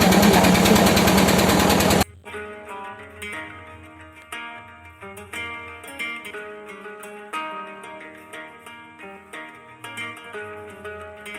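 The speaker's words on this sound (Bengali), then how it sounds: "ভটভটির ভটভট শব্দ আর নদীর কুলুকুলু কলতান" A motorised country boat engine putts steadily on a river, a continuous rhythmic mechanical chugging that follows a loud broadband burst at the start.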